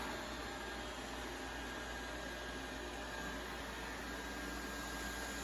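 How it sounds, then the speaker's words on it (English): A Ziglint D5 robot vacuum cleans a floor indoors, giving off a soft, steady whirring hiss that holds constant throughout, with no voices. "as you can see, the vacuum doing a very thorough path"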